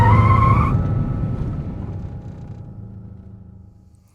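A rally-tuned car's engine roars loudly, then drops away abruptly as the vehicle brakes hard and crashes, leaving a fading, rumbling deceleration.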